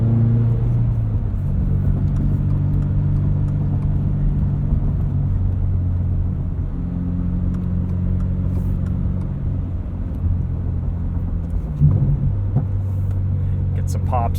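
A 2022 Subaru BRZ with its FA24 engine and MRT axle-back exhaust drones steadily at low pitch from inside the cabin, with a few faint pops and burbles crackling near the end.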